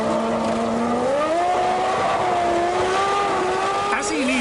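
A Ferrari Formula 1 car's engine screams steadily at high revs during a 1996 race, its pitch gliding upward and holding loud and continuous, with commentary running over it.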